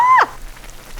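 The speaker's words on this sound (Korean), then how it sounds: "오, 끓어요! 끓어요!" Temple-style soup with perilla broth and no meat, similar to yukgaejang, bubbling in a pot. After a brief tonal sound at the onset, a soft, steady crackle of small bubbles continues close by.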